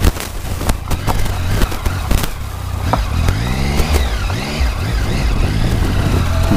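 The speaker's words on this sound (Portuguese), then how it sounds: "Que tem todo esse movimento de carro." Cars and other motor vehicles stream along a busy road close by, their engines loud and continuous with rising revs and rumbling passes, while no one speaks.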